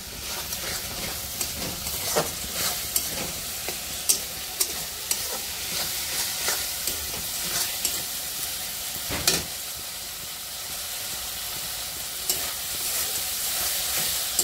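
Masala spice paste fries in oil in a pan for an egg curry, a continuous loud sizzle broken by repeated sharp scrapes and taps of a spoon stirring throughout.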